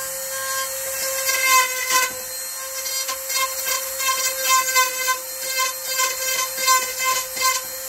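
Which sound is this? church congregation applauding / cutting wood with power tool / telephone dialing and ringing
cutting wood with power tool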